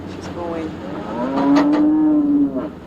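A milking cow lets out a single drawn-out moo, close and fairly loud, rising in the middle and fading at the end.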